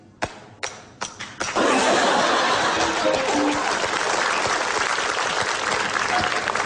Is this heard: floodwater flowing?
no